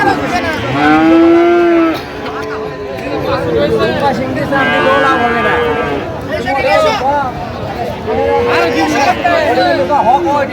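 Friesian bull calves and other cattle moo repeatedly at a busy livestock market, close and loud, over steady crowd chatter.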